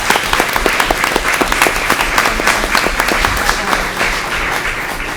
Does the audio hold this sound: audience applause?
yes